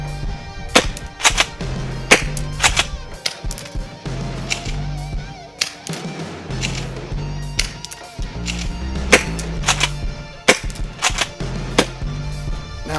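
A Tokyo Marui Kel-Tec KSG airsoft shotgun fires six rounds, each a sharp close crack spaced a second or so apart, with the rack and clack of pump handling between shots.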